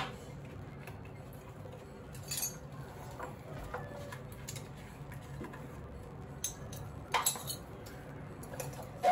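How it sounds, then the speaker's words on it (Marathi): Ground crab curry paste being pressed through a metal strainer, faint scattered metallic clinks and scrapes with quiet gaps in between. "आता हे गाळणी ना चांगलं व्यवस्थित गाळून घ्यायचं"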